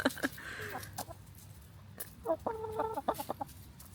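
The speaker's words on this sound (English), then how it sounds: "What my breaks consist of is finding the chickens, seeing what they're up to." Backyard hens cluck close by in short, irregular bursts, with quiet gaps between calls against a faint outdoor background.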